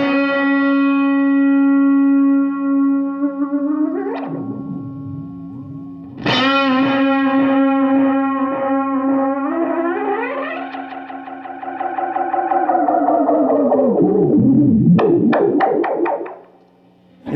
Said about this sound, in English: I'll put the echo about halfway up, okay? And I'll just let a chord ring